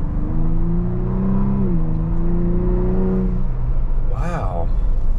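A 2023 Ford Bronco Raptor in sport mode accelerates with a loud, steady engine drone whose pitch rises and dips, then a sharp rev near the end.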